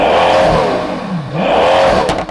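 A Pagani Huayra Codalunga with an 840-horsepower AMG V12 twin-turbo engine revs loud and close, its pitch sagging to a low dip before surging back up into a second hard rev.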